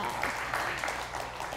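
Audience applause at a youth sharing event, a steady dense wash of clapping filling the whole short moment at moderate level with no talk over it.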